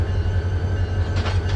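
A simulated train rumbles along in Run8 Train Simulator, a steady low drone with faint rhythmic rail clatter, heard alone and continuous for the short stretch.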